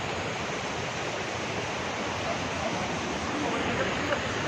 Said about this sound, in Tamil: இங்கே அந்த தண்ணி சலசலப்பு நல்லா கேட்குது.